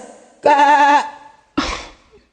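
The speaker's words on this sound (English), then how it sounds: "Look, Mom. It's a goat." A goat bleats twice, close and loud: a long wavering cry followed after a short pause by a briefer, rougher one, in a stage musical setting.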